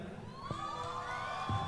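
An audience cheers and shouts for Pritam Dada at a live event, a steady wash of crowd voices and whoops with a few claps, loud and continuous throughout.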